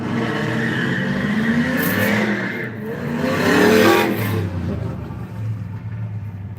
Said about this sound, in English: Dude's driving an old school Camaro and like an IROC Z or something, peeling out of here.